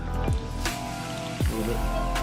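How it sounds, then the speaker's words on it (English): Water added to a citrus lingcod taco marinade, two short pours or splashes about a second apart, close and clear, with no talk over them. "we're just gonna add a little bit of water to it"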